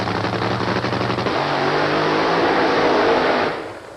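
Funny car drag racers launching at the 1985 ADRA World Finals, a thunderous crackling engine roar that holds loud and steady, then drops away after a few seconds.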